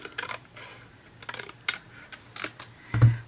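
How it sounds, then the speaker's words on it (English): Scissors snipping through a paper envelope flap at its curve, a few quick, crisp clicks and cuts close by, ending with a louder snap. "I'm just going to cut that off right at the curve."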